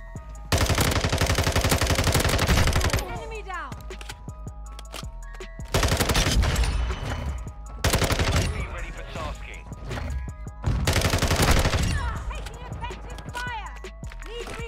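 Teammates' machine guns rattle in Call of Duty MW2, loud sustained bursts of automatic fire coming in several separate volleys, with quieter gameplay sounds and scattered clicks between them.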